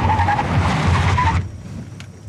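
A 2006 Toyota Prius hybrid braking hard from 100 km/h with anti-lock brakes: loud road and tyre roar with a pulsing scrub for over a second, then dropping abruptly to a quieter steady hum as the car slows.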